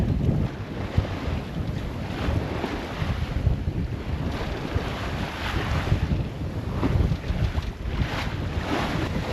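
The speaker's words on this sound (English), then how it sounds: "we are in 2 to building 3 meter seas right now, running about 15 knots of wind" Steady wind roar and heavy water wash on a sailboat in open ocean, two-to-three meter seas building with about 15 knots of wind, with rhythmic surges of waves against the hull and microphone buffeting throughout.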